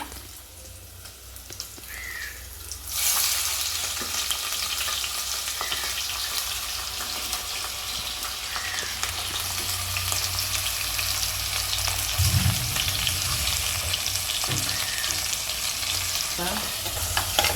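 Shelled prawns frying in a pan for a Kerala-style coconut curry: a quiet start, then a sudden steady sizzle once they go in, with occasional stirring scrapes and a distant crow cawing faintly.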